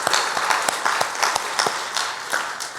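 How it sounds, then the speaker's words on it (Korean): A church congregation claps during a Sunday worship service, many hands in loose rhythm with a few sharper nearby claps standing out, sustained throughout at moderate loudness. "우리 축복하고 감사하는 박수 하겠습니다."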